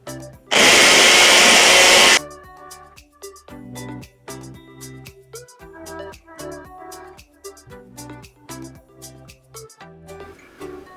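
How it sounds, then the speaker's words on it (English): An electric food chopper whirs loudly for under two seconds, blitzing white onion and two jalapenos for chili. After it stops, rhythmic background music plays on. "So I chop them all up, put them in the obliterator."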